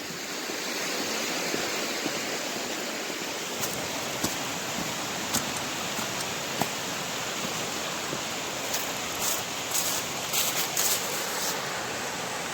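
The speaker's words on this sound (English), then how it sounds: "And there is a river down there." A river flows in the woods below a hillside trail near the Keystone railway arches in Chester, Massachusetts, giving a steady, even rush of water with a few faint clicks and taps over it.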